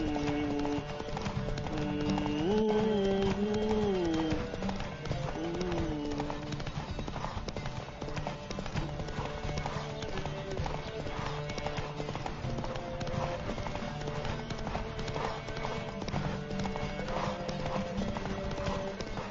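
Horse hooves clip-clop at a gallop in a steady, close rhythm throughout, from mounted riders racing and drifting, with music-like tones and faint voices in the background.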